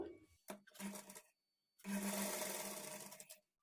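A sewing machine stitches a blouse waistband at a half-inch margin in two short runs, a quiet whirring burst, a pause, then a longer steady run.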